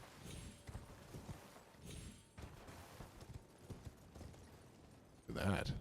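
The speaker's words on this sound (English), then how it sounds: "It's a horse called Torrent in the game." The horse Torrent gallops in the Elden Ring video game, with rhythmic hoofbeats thudding at a steady pace, then a louder burst of noise at the close.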